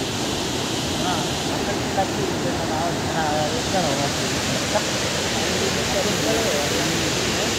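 Water pours down Kuntala waterfall in Adilabad, Telangana, as a constant dense roar, near and loud, with faint voices barely rising through the rush.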